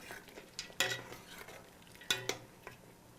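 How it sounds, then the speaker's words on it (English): A spoon stirring West African pepper soup with goat meat in a pot, a few distinct metallic scrapes and clinks against the pot over a faint simmer, quiet and close with no talking. "I'm going to mix that up."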